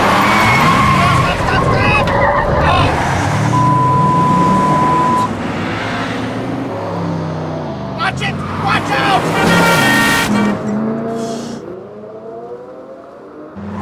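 A car driven fast while skidding: engine roar and screeching tire squeals rise and fall, loud and close, with agitated shouting voices over much of it.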